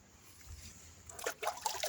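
Water poured out of a container outdoors, a short splashing trickle that starts partway through and comes in uneven bursts, close and fairly clear over faint background noise.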